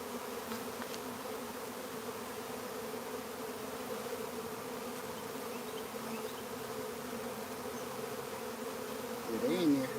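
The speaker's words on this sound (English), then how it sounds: "This is a wild hive." Honeybees around a wild hive make a continuous dense buzzing drone, steady and fairly close, with one bee swelling louder as it passes near the end.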